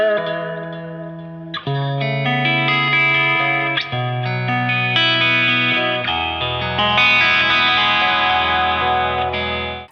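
A thin, out-of-phase tone from a 1954-style Fender Eric Johnson "Virginia" Stratocaster electric guitar, playing a sustained chordal passage with shimmering, slightly chorused and reverberant character, loud and alone without any talking.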